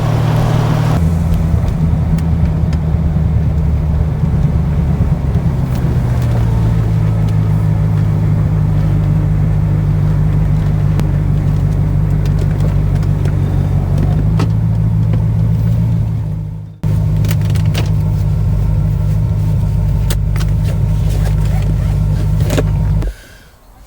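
C4 Chevrolet Corvette with an LT1 V8 driving along, a steady low engine drone and road rumble filling the cabin, with a brief dip in the sound partway through and no one speaking.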